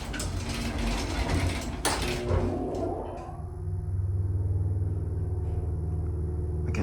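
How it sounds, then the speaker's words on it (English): Historic Westbrook traction elevator at Carroll Hall on the UNC campus in Chapel Hill, running with a steady low mechanical rumble and hum, a door-like slide and clunk partway through, then continuous motor drone. "Again, I love this elevator."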